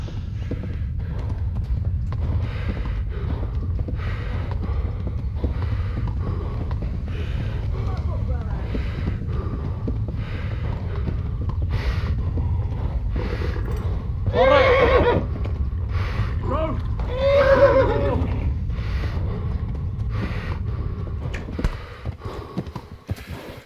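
A horse in the game Kingdom Come: Deliverance gallops with a steady rapid hoof rhythm throughout, breaking into two loud whinnies midway, with wind rushing and voices talking over it.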